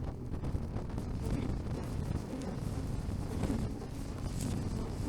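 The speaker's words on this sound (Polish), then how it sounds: "Sami słyszycie, jakie jest silny wiatr jest." Strong winter wind on a mountain summit near a viewing tower roars continuously, buffeting the microphone with a heavy, low rumble that never lets up.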